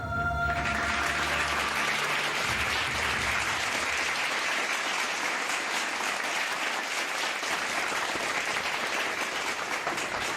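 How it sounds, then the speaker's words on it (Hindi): A studio audience on a Hindi reality show breaks into sustained applause, a broad even roar of clapping holding steady for about ten seconds after a brief musical tone at the start. "संजय जी के लिए तालियां"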